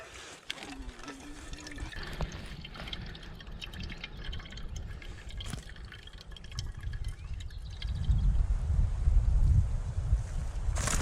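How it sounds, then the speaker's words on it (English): Water trickles and splashes into a container with a low gurgling rush that grows louder toward the end, plus faint background noise. "I'm going to fill my water bottle as well"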